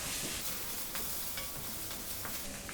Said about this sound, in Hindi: अदरक लहसुन का पेस्ट लगभग 1 बड़ा चम्मच डाल देता हूँ। वापस भूनेंगे 2 मिनट तक।